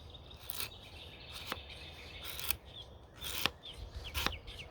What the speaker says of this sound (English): Slices right through this stuff. This is some really hard fat wood.